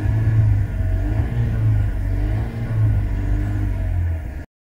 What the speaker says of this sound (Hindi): अब मैं आरपीएम दूंगा तो आपको इसका नॉइस सुनाई देगा